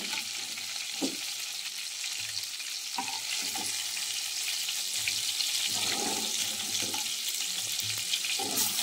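Garlic leaves frying in a pan for a chicken dish, a steady crackling sizzle throughout with occasional louder spatters and stirring clatter, close and moderately quiet, no talking.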